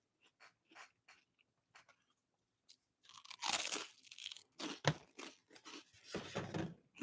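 Toast spread with mulberry jam is crunched close to the mic, first in light, sparse crackles, then in louder, dense bites and chewing crunches.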